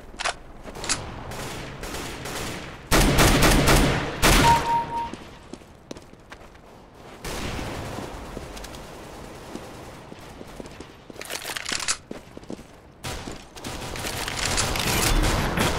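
Pistol fire in CS:GO comes in loud bursts of several rapid shots separated by quieter stretches of footsteps and game ambience.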